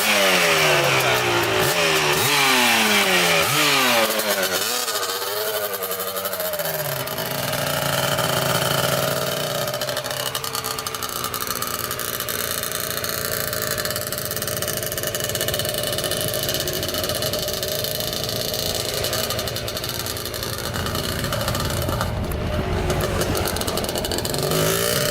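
Honda TRX250R ATV engine kick-started and revved, a loud, close two-stroke-style buzz that rises and falls through repeated throttle blips, then settles into a steady idle and rev over roughly twenty-five seconds with no talk.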